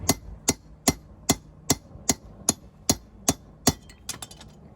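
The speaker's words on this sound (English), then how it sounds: "I'm gonna hammer down on it." A hammer strikes a chisel on hot metal at a forge in a steady rhythm, about a dozen sharp ringing blows roughly half a second apart, close and clear.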